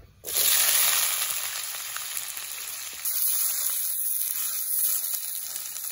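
Potatoes frying in hot oil with red chillies and panch phoron, a steady, dense sizzle that starts abruptly and continues loud and unbroken throughout, with no talking.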